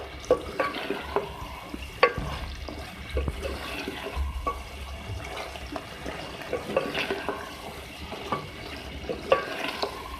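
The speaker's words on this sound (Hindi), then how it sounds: "दही को अच्छे से मिक्स कर लें। इसको मैं भून लूँगी।" Yogurt stirred into frying minced beef with potatoes and peas in a pan, continuous wet sizzling with repeated spoon scrapes and taps, no speech.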